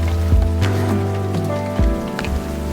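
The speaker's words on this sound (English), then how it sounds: "The rain was coming down actually quite good by now." Heavy rain pours steadily in a Cypriot woodland, a dense, close hiss of drops on leaves and ground, with a few louder splashes and knocks breaking through.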